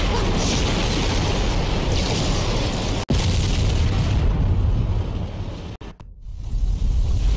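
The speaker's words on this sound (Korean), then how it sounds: "나이도우는 패배하고 대회장은 폭발을 휘말립니다" A loud explosion rocks a tournament venue in the Dead or Alive fighting game, a sustained roaring blast with rumbling debris, broken by sharp cuts and dropouts before the din surges back.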